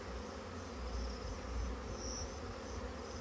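A swarm of bees colonizing hives on an evening in swarming season makes a dense, steady buzzing hum, close and continuous throughout.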